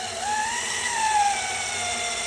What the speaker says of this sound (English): Next step is I'm going to take my screws, 1 5/8, same length, and do like a toenail, about 45 degrees, through the shelf and into the leg.